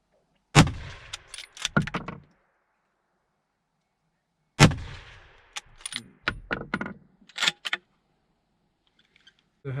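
Rifle shots from a Varberger 6.5x55 rifle on an outdoor moose-target shooting range: two loud, sharp reports about four seconds apart, each followed by ringing decay and a few quieter clanks and knocks.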